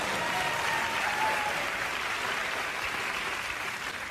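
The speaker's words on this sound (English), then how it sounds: "You can applaud, sure." A studio audience on a late-night talk show breaks into applause, a dense, even wash of clapping that stays loud and steady throughout.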